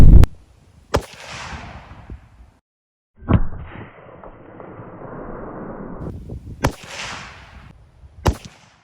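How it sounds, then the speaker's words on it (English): Loud rifle shots from a 30-30 firing 150 grain Remington CoreLokt ammunition outdoors, several sharp cracks spaced apart, each followed by a rolling echo, with rustling and handling noise between them. "after shooting that 150 grain Remington CoreLokt 30-30 stuff"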